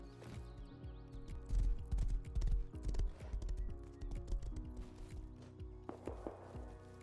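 In the survival video game Rust, a horse trots along with rhythmic clip-clop hoofbeats and creaking mechanical sounds, close by and at moderate loudness, without talk.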